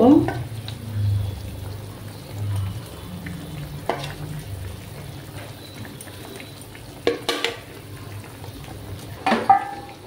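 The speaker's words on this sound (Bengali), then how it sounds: "ঝোলটা ফুটে উঠেছে।" Broth for a Bengali tangra fish curry with ridge gourd and potato bubbles and sizzles in a pan, a soft continuous simmer with occasional clinks and stirring, a voice talking briefly at the start.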